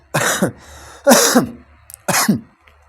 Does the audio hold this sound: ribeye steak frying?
no